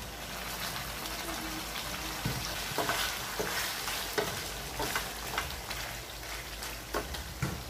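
Adobo cooked with Sprite is stirred in a pan after three tablespoons of vinegar go in. A steady, close sizzle runs throughout, broken by repeated scraping and clacking strokes of the spoon against the pan.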